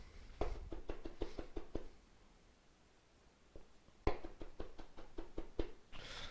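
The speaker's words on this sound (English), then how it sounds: "Which will leave us with diced garlic." A kitchen knife dicing garlic strips on a cutting board, quick bursts of sharp close chops in two runs separated by a brief quiet pause.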